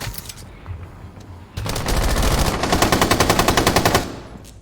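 Rapid automatic gunfire in Rainbow Six Siege during a tournament match, Capitão firing in sustained bursts. Quieter game ambience leads in, then loud, rhythmic, fast-repeating shots take over for about two seconds before easing off.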